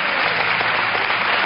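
A studio audience gives a short burst of sustained applause for Nicolás Díaz Busto, dense and even, with no voices heard.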